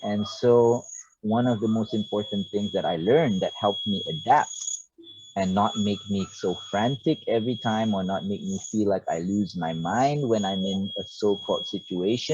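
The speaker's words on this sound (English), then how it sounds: "That is cicadas" Cicadas buzz in a steady, high, continuous drone behind a person talking throughout, holding at a constant level.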